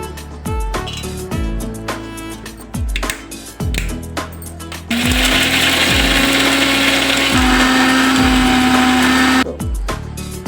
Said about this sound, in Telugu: ముందుగా పల్లీలు మిక్సీకి పట్టు పట్టుకున్నామండి